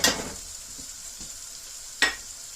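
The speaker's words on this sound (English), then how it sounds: "And we'll just mix this through. Cook some of that flour." Flour being stirred into melted butter in a pot for a roux for New England clam chowder, a steady soft sizzle with two sharp scraping strokes of a utensil at the start and near the end.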